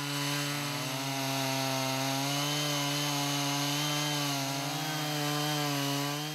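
A large chainsaw over 65 cc mills a log on a Norwood Portamill portable sawmill, its engine droning loud and steady under load for the whole stretch with no break.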